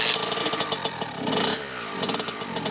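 Kawasaki KX65 dirt bike, a small two-stroke, sputtering to life after a kick start and running unevenly at close range, with rapid popping pulses and a brief rise in revs.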